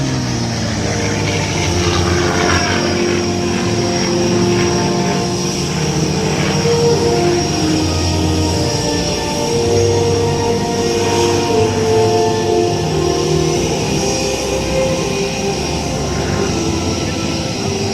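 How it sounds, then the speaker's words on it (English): P-51 Mustang WWII propeller fighter plane in flight, a steady loud engine and propeller drone that holds throughout, with a narrator's voice faintly underneath. "The P-41 Mustang."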